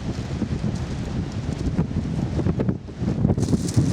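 Steady wind buffets the microphone with a dull, gusting roar, rising and falling throughout with a faint rustle on top.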